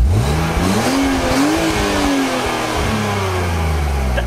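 BMW E46 330ci engine revved hard for a sound check, a loud, close straight-six rising and falling through several sharp bursts before settling into a steady rumble.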